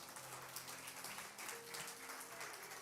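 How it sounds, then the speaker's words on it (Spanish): A church congregation applauds during a live worship service, a steady wash of clapping lasting throughout, with sustained tones from music or voices running underneath. "Aplauda fuertemente al Señor"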